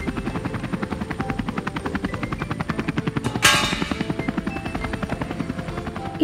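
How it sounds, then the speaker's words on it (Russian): Steady rhythmic thumping of cartoon helicopter rotor blades, close and continuous, with a brief whooshing burst midway. "А вертолет несет горку,"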